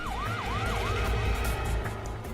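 A police siren wails in rapid rising-and-falling sweeps, loud and close, over a low rumbling engine.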